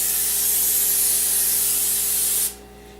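A steady, close hiss of an aerosol cooking spray can for about two seconds, then it cuts off abruptly into quiet.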